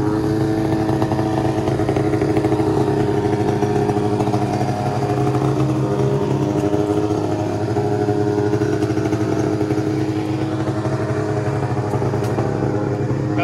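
A small pull-start engine that had not been run for a long while fires and keeps running, a loud, steady buzzing drone close by that holds unbroken throughout.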